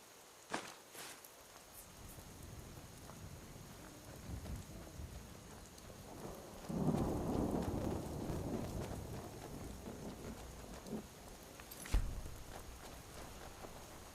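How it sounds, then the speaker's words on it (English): Thunderstorm in the video game Skyrim: soft steady rain hiss with a low rolling thunder rumble building midway and a sharp crack near the end, fairly faint overall. "Sounds like a thunderstorm."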